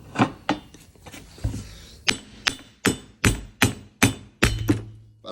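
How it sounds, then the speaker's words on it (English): A hammer strikes metal repeatedly, tapping the welded end out of a Volvo 245 propshaft tube. About a dozen sharp, ringing blows land in a fairly regular rhythm, loud and close, with no talking. "Now I'm just tapping the end out."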